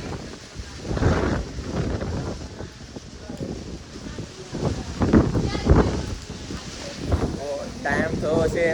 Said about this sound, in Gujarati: તમે જોઈ શકો છો કે પવન એટલો બધો આવે છે